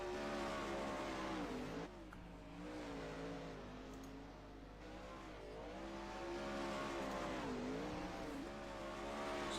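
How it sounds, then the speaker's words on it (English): A 410 sprint car races around a dirt track, its engine note rising and falling with each lap as it slows for corners and revs again, heard at a moderate distance with no talk. "So Schaefer going to be the first car of this 3 cars on the racetrack"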